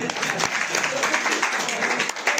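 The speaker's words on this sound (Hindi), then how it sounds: "ताली बजा दो भाई।" Audience clapping fills the room at an agents' New Year 2021 seminar, a dense, steady patter of many hands held at an even level throughout, with no voices standing out above it.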